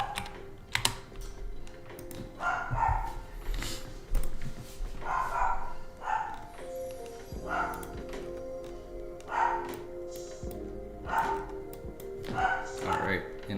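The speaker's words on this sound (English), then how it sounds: "My dogs are going crazy." Dogs barking indoors during a live futures-trading stream: repeated sharp barks scattered across the clip, mixed with computer keyboard typing and a person talking.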